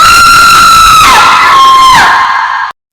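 A girl screams long and loud, a piercing sustained shriek that wavers and dips in pitch before cutting off abruptly, set in a Hindi horror story about black magic.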